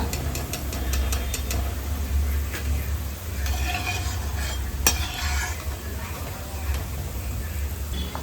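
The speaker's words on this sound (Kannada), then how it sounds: "ಈ ಹದದಲ್ಲಿ ಕಡಕ್ಕಾಗಿ ಫ್ರೈ ಆಗಬೇಕು, ಬ್ರೌನ್ ಕಲರಲ್ಲಿ." Pepper chicken frying until crisp and brown in a pan, with a steady close sizzle and a low rumble under occasional stirring clinks and a sharp tap partway through; no talking.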